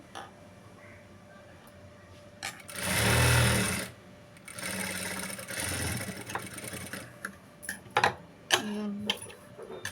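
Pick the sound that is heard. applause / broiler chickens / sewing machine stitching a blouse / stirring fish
sewing machine stitching a blouse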